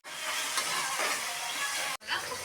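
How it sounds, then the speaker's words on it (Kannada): Tomato and mint fry in a pan for pulao, giving a steady bright sizzle and hiss for about two seconds, broken by a brief cut before the sizzling resumes. "ಫ್ರೈ ಮಾಡ್ಕೋಬೇಕು."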